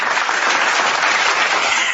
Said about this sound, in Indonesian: Udah, tepuk tangan.